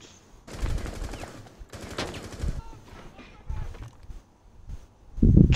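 Bursts of gunfire shot through a wall in Rainbow Six Siege, two sustained loud volleys with a few shorter shots after, close and harsh, while players talk over the action.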